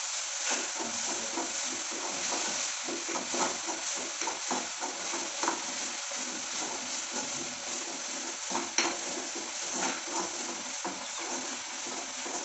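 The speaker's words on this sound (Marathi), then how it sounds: "पूर्ण सोनेरी रंग येईपर्यंत या पेस्टला आपण परतून घेऊया।" Masala paste for a Maharashtrian black chicken curry sizzles and fries in a pan, with steady crackling and occasional stirring scrapes of a spoon throughout, close and continuous.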